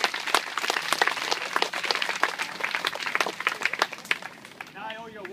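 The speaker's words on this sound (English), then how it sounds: "give a nice round of applause to Cosmo." An audience claps in a warm round of applause for a person named Cosmo, dense and steady for several seconds before thinning out, with voices in the crowd.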